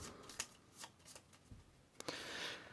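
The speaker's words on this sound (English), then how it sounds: "Give these a shuffle." Cards for a board game are shuffled by hand in a quiet room, a series of crisp riffles and taps in quick bursts, ending in a longer fluttering riffle.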